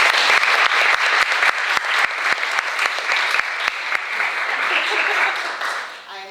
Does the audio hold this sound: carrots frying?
no